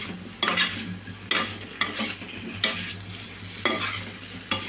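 Boiled tapioca pieces with salt are stirred in a pan, a spatula scraping in about six regular strokes over a low, steady sizzle, close and alone with no talking.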